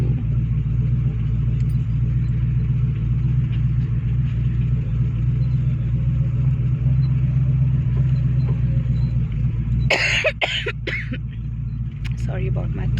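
A restored 1968 Mustang convertible drives on Delhi roads, its engine giving a steady low rumble throughout, with a burst of louder broadband noise near the end.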